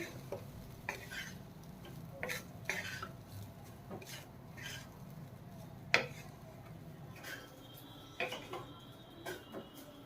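Leftover rice with corn being stirred in a pan, a spoon scraping and clinking against the metal in an irregular rhythm over a low background hum, with one sharper knock near the middle.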